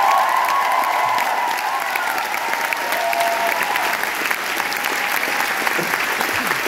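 Audience at a live concert applauding steadily and warmly for several seconds, a dense wash of clapping from a large crowd with no talk.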